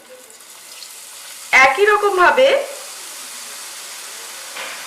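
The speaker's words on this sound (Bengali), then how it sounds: "এবারে আমি রেড ব্যাটারটা দিয়ে ভাজছি" Red-coloured boondi batter frying in hot oil gives a soft, steady sizzle that runs low throughout, briefly covered by a short spoken phrase in the middle.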